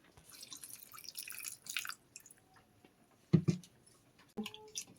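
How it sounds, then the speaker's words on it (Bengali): Water poured and dripping onto old black tamarind set to soak, soft splashes and drips at close range with a few wet thuds, in a quiet home kitchen. "এটা আমি একটু জল দিয়ে ভিজিয়ে দেবো।"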